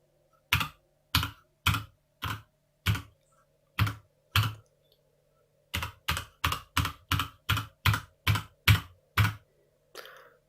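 Someone types on an ASUS ROG Claymore mechanical keyboard, producing crisp, close key clacks in two bursts: a slower run of single presses, a short pause, then a quicker steady string of keystrokes over faint background hum.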